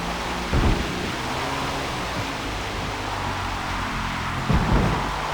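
Steady rain hiss in the Forza Motorsport racing game, a constant dense wash with a couple of brief low rumbles, loud and continuous with no talk.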